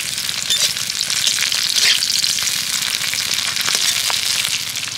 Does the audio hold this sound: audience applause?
no